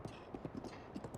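Horse hooves clip-clopping at a walk in Zelda: Breath of the Wild, a giant horse near Kakariko Village, in a steady run of soft, fairly close beats with no talk over them.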